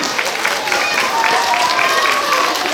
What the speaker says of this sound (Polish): Witamy gości gorącymi brawami.